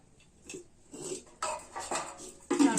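Dishes and cutlery clatter while rice is served at home, with scattered clinks and scrapes that grow busier and louder toward the end, close by and without talk.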